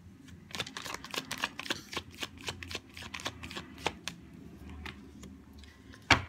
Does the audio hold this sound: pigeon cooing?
no